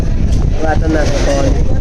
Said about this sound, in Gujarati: હવે ડાયરેક્ટ મસ્ત પવન આવે છે.